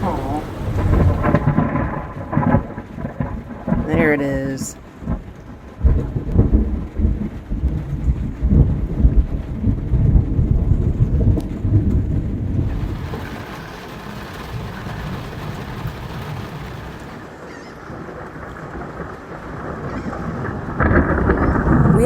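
A thunderstorm with rain is heard from inside a van at a Florida state park on the Gulf Coast. Rolling thunder booms and crackles over steady rain drumming on the roof, with a brief spoken remark.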